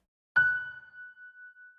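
A single grand piano chord struck once, ringing dry with a sustained tone that slowly decays, no echo or added ambience.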